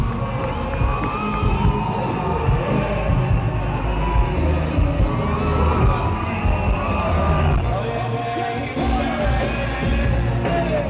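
A packed crowd in a shopping mall at a concert at Dragon Mart 2 cheers and shouts continuously, loud and dense, with whoops and yells rising over the din.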